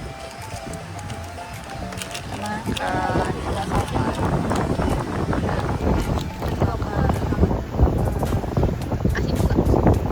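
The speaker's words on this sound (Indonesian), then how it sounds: "Anginnya besar." Strong wind batters the microphone on a boat trip around Karimunjawa with big waves, a loud continuous roar and buffeting that thickens after the first few seconds, with faint tapping and a high whine near the end.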